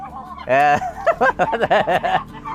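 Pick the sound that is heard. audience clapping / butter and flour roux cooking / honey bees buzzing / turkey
turkey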